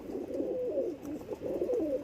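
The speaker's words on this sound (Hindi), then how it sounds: "एक कबूतर ये आया है जी" A pet pigeon coos in a low, rolling, repeated call, close and alone, with soft steady bubbling phrases throughout.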